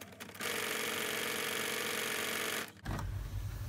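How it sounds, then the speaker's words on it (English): A sewing machine runs in one continuous burst of fast, even stitching for about two seconds as it sews a fabric project bag, then stops and is followed by a low rumbling handling noise. "and I just start stitching down the other side."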